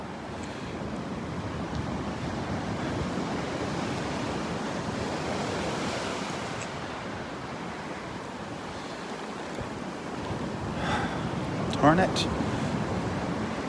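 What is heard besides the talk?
ocean waves on the beach at Delnor-Wiggins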